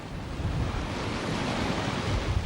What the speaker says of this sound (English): when the waves are short and sharp, like this, they are very likely to break on board